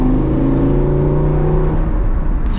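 A Ferrari Testarossa with a robotized manual gearbox in sport mode accelerates hard, its engine a loud, close, steady roar with rising harmonics that holds throughout without talk.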